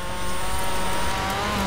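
A 1990 Nissan Pulsar GTiR with a body kit drives in the racing game Forza Horizon 4, its engine note a steady, loud drone with a brief swell in revs, alone with no talk.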